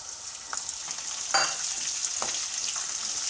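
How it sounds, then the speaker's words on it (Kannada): Onions and peas sizzle steadily in a pan for vegetable fried rice, a close, even hiss broken by a few soft stirring scrapes, with no voices. "ಈಗ ಇದು ಈರುಳ್ಳಿ ಫ್ರೈ ಆಗಿದೆ ಇದಕ್ಕೆ ನಾನು ಬಟಾಣಿ"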